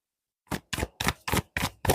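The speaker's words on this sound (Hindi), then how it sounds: "थोड़ा कार्ड्स को मिक्स कर लेते हैं।" Tarot cards are shuffled in six distinct, evenly spaced riffling bursts, close and crisp, each a short papery flurry separated by brief pauses, with no talking over them.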